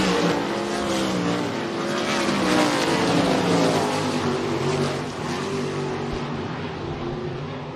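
Dirt track race cars roar continuously through a speedway heat race, a dense, steady engine drone with shifting pitch as several cars run close together, loud and unbroken throughout.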